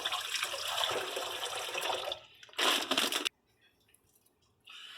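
Hot tap water runs from a faucet for soaking oriental noodles, a steady splashing stream that cuts off, returns in a short louder burst, then falls silent before resuming faintly.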